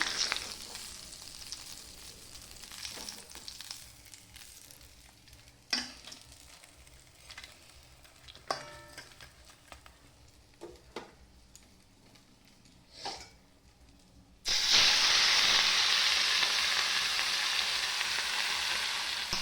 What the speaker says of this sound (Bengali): আবার আরেকটা মুড়ো ভেজে দিয়ে দেবো ভেজে নেবো লাল লাল করে